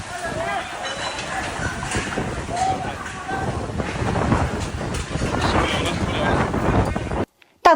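Strong wind gusts buffeting a microphone outdoors near a construction site, a loud continuous roar with rushing surges, with voices faintly mixed in before an abrupt cutoff.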